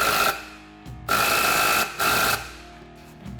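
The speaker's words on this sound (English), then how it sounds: "Then I take my impact and a 15mm. Go ahead and tighten it up." An impact wrench with a 15mm socket tightening a bolt while a Rev1 clutch kit goes onto a Polaris RZR XP 1000, heard as loud, close, rattling bursts, with three runs split by short pauses.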